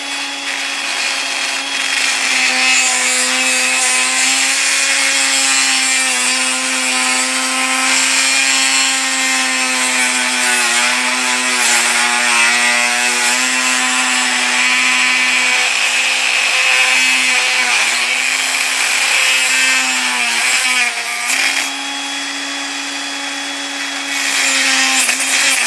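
An old grinding wheel working a turkey spur gives a steady, high-pitched whine that runs continuously for about 25 seconds, loud and close, with a brief dip in pitch near the end.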